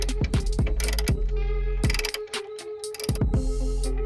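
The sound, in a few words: tool loosening headlamp bolts on a Kia Koup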